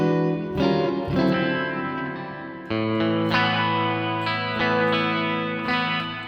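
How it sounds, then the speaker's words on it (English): Electric guitar chords through a Line 6 POD Express space reverb ring out with a lush, shimmering reverb that swells and trails behind each strum, filling the space with a bright, airy wash. "then we've got the space reverb, which is going to be like a kind"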